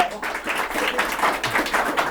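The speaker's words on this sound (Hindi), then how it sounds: "मैं आप लोगों को ताली नहीं बजाने बोला था" Students in a classroom break into scattered clapping, a brief burst of uneven hand claps lasting about two seconds, close and moderately loud.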